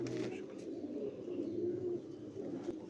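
Breeder pigeons cooing in a steady, low murmuring stream with soft overlapping calls, fairly close and continuous throughout.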